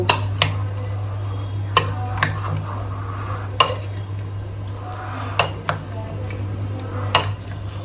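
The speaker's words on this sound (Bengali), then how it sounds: "আমি চিকেনটাকে খুব ভালো করে সমস্ত কিছু দিয়ে এইভাবে মাখিয়ে নিয়েছি" Chicken pieces being worked together with marinade by hand for chilli chicken in a home kitchen, a soft continuous wet squelching broken by a few sharp clinks of a bowl or utensil, no talking.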